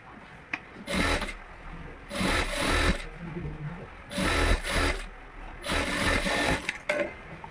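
A sewing machine stitches a half-inch seam on an embroidered blouse sleeve, running in four separate bursts of a few seconds each, with short quiet pauses between them.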